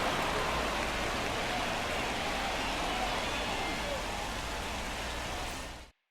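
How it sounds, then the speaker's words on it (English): Steady, dense hiss of rain falling during a baseball game delay in the MLB The Show 24 video game, constant and even throughout before cutting off abruptly at the end. "The rain is here, and it doesn't look like it's going away anytime soon."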